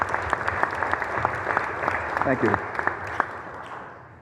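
An indoor community-meeting audience gives a burst of applause, with dense clapping that swells and then tapers off. A speaker briefly talks over the end of it.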